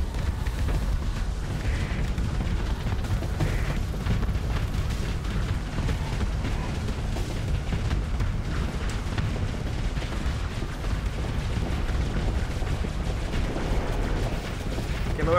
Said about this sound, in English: The front of my ship explodes!